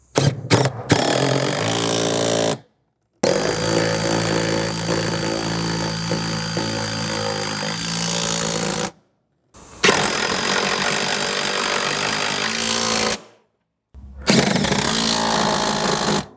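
A power tool snugging bolts on a Jeep Wrangler subwoofer install, loud close buzzing whine in four long bursts separated by short silences, with quick stuttering pulses at the start.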